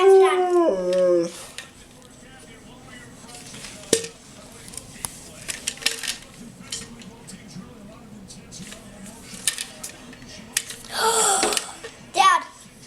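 A pet dog howls along while a family sings at home, its drawn-out wavering howls rising near the start, then quieter whimpers and short cries under children's voices, with another howl near the end.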